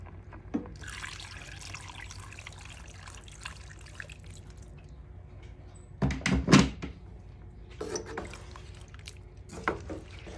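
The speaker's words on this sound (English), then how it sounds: "Right now we just add water." Water poured into a cooking pot for yam porridge, with a short splashing burst of liquid in the middle and softer trickles and drips around it, near and fairly quiet, with no talk.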